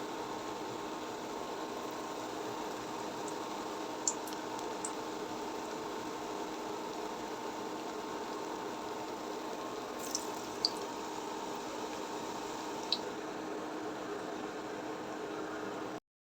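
Eggplant beguni fritters deep-frying in hot oil give off a steady, dense sizzle and hiss that holds evenly throughout, with a few faint ticks and pops on top and no voices.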